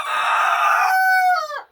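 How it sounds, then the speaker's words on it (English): A rooster crows loudly and close by in a chicken pen, one long strained cock-a-doodle-doo with a rising then falling tail, heard alone without talk. "we're gonna have to split up the roosters over there on the other pen because I can hear them"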